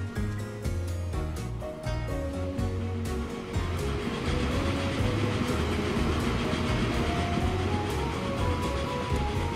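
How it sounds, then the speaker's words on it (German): Small train running in the video game Transport Fever, a steady rolling rumble with clacking wheel rhythm over a game's tuneful background music, moderately loud and continuous, with no voices. "Da fährt er unser schöner kleiner Zug."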